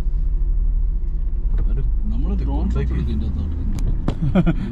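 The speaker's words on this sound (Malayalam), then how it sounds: "അത് ലോറി ഒന്ന് പോട്ടെ" A lorry rumbles past on a mountain road in Spiti, near Kibber village, as a deep, loud engine drone that fills the whole clip while people talk over it.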